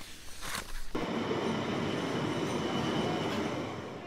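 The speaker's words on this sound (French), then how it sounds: "Osman Mahomed affirme qu'un 13e train pourrait bientôt desservir la ligne Curepipe-Port-Louis aux heures de pointe." A Metro Express train on the Curepipe-Port-Louis line rumbles past close by, a loud, steady roar of wheels on rails that swells in and holds for several seconds after a brief quieter lead-in.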